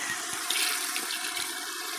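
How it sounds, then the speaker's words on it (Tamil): Water poured into a cooking pot of basmati rice and chicken during outdoor garden cooking, a steady broad splashing rush that runs continuously and fairly loud for the whole stretch, with no talking. "அதே அளவு தான் தண்ணி ஊற்ற போகிறேன்"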